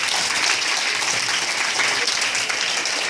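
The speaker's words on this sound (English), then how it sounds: "Great, give a big round of applause" An audience at a dental college career guidance talk bursts into applause, with dense, even clapping filling the whole short stretch.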